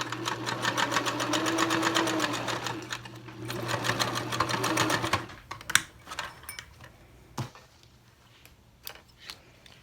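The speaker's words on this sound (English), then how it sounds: "So I'm going to go to the sewing machine and sew it." A sewing machine stitches a pleated face mask, running in a fast, dense mechanical chatter for about five seconds, then stopping; a few scattered clicks and handling knocks follow in the quieter remainder.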